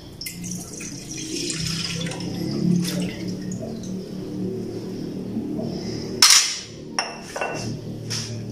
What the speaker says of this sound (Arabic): كناخدو نص سيترو ديال الحليب